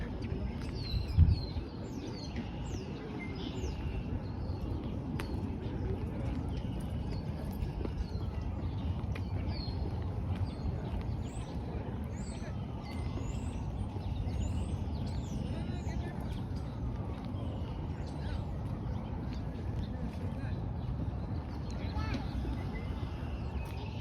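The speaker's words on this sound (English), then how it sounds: "I'm hearing a lot of birds singing." Birds chirping and tweeting outdoors in downtown Toronto, scattered faint calls over a steady wash of street and traffic noise, with footsteps and occasional distant sounds.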